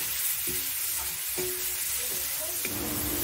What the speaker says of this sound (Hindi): और उसके बाद में ये डाल देंगे टमाटर।